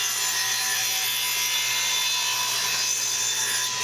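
Close hand-sawing or trimming of a scrap wood box, a steady continuous rasping scrape with no pauses and no voices.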